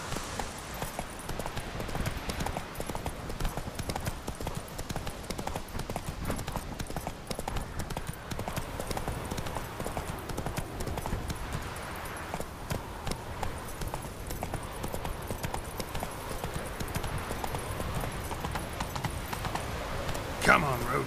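Roach, the horse in The Witcher 3, gallops with rapid rhythmic hoofbeats clip-clopping steadily throughout, while a voice speaks over the hooves.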